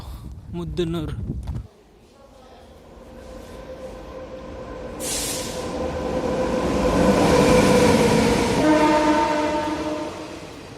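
Train at Muddanur railway station in India: a voice speaks briefly, then rolling rail noise builds and grows louder as the train passes close, with a sustained horn-like tone near the end.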